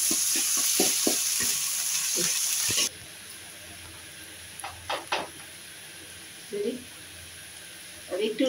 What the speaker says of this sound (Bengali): গরম হয়ে গেলে এই পেঁয়াজ দিয়ে দেব, কাঁচামরিচ দিয়ে দেব, দিয়ে নাড়াচাড়া করব